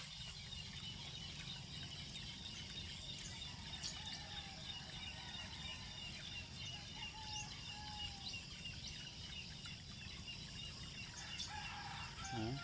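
Chickens cluck and a rooster calls among chirping birds and flapping wings, a busy outdoor poultry yard heard at moderate distance without talk.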